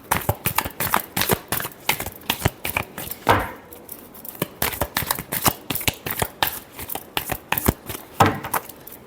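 Tarot cards are shuffled by hand in a quick, steady run of crisp riffling clicks and flutters. The sound is close and moderately loud, with brief pauses between bursts.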